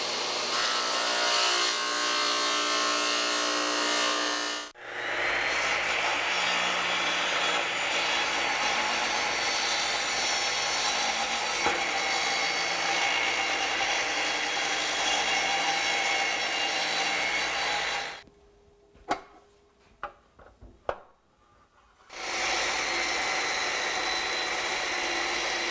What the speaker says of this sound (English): We're going to do this one with a chainsaw again here.